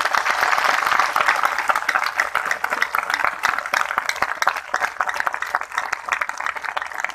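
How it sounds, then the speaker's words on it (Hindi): Crowd at a festival gathering in India claps loudly, a dense roar of many hands that carries on steadily and then thins slightly toward the end. "मैं चाहता हूं कि हमारी बहनों के सम्मान में एक बार भाइयों की तरफ से जोरदार ताली होनी चाहिए।"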